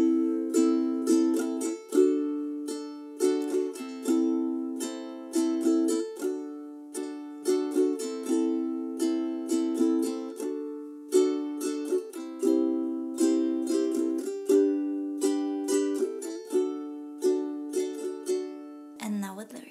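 A ukulele strums a chord progression in a down, up, up, down, up pattern, once on each chord: bright, close, steady strums in a repeating rhythm with chord changes and no singing.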